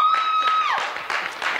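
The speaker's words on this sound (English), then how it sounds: "That was a pity clap" Thin, scattered clapping from a small audience, a few sparse hand claps following a fading tone, faint and brief rather than full applause.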